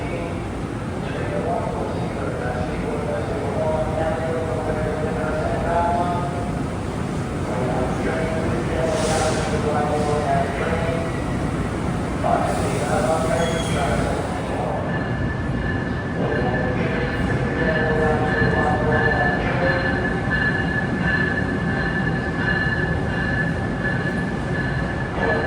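Passenger train at New York's Penn Station, a steady rumble of rail cars and wheels on track under station announcements and voices, with a rising high squeal partway through and a sustained electric whine in the later half.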